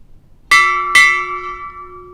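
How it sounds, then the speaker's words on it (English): Two crisp strikes on a ship's bell at a US Navy retirement ceremony, close and loud, the bright clang of each lingering and slowly fading in a quiet space. "Strike, 2 bells."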